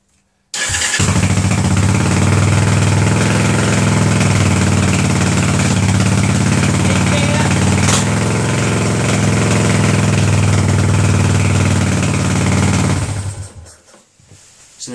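Yamaha SR250 single-cylinder motorcycle engine idling in neutral, loud and steady close by for about twelve seconds after it fires up, then cutting out abruptly.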